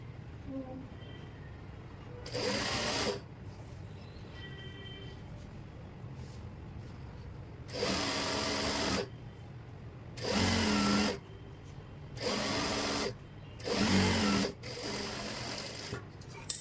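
A sewing machine stitches the side seam of a pair of pants in several short bursts of fast rattling whir, each lasting about a second, with quiet gaps and faint background hum between them.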